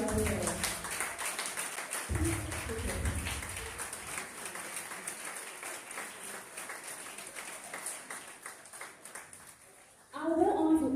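Audience applause at a student debate competition, welcoming a speaker from a college of physicians and surgeons: steady, dense clapping from a sizeable crowd runs for about ten seconds, with a voice cutting in near the end.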